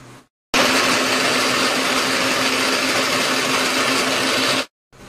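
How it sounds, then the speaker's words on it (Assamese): A kitchen mixer grinder whirs loudly and steadily for about four seconds with a constant motor hum, then cuts off abruptly into silence. "বন্ধুসকল চাওক এইটো মিক্সি যে আছে"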